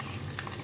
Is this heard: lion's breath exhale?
no